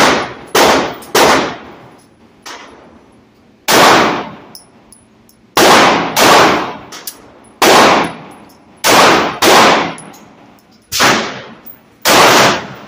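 A G-45 pistol fires at steel targets, each sharp report ringing with a metallic clang, about a dozen loud shots in irregular pairs and singles with quiet gaps between.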